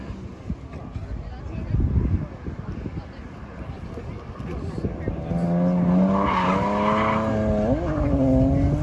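A race car on a track with its clutch kicking, the engine revving loudly and rising in pitch with tire squeal toward the end, while people talk and shout nearby over the noise.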